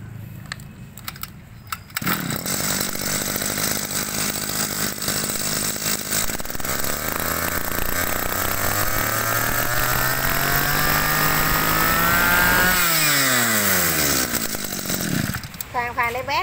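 A Mitsubishi T130 backpack engine runs loudly and steadily close by, its pitch rising and falling as the throttle changes, then dropping away near the end.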